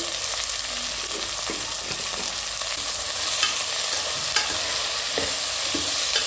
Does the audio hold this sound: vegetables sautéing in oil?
yes